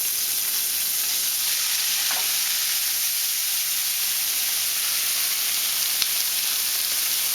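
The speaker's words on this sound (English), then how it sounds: "I'm just gonna stir fry it a bit" Onions stir-fry in a pan of rendered fat, giving a loud, steady, unbroken sizzle close up, with no voices.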